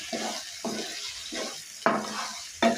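Spoon stirring masala into a cashew and drumstick curry in a pan, four or five rhythmic scraping strokes over a low sizzle, close and clear.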